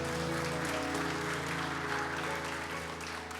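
A church congregation applauds in a steady, dense wash of clapping, with sustained music tones underneath throughout.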